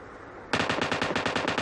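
M249 light machine gun fire in a shooter video game, a sudden sustained automatic burst of evenly spaced, loud rapid shots following a brief quiet moment.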